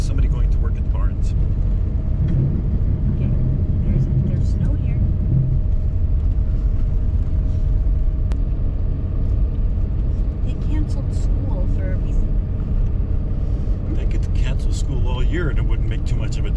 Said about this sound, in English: that's gravel road driving right now